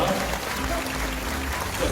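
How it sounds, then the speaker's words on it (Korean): An audience at a ginseng expo launch ceremony claps steadily for two seconds, a thick wash of applause with voices murmuring underneath. "여러분 박수 부탁합니다."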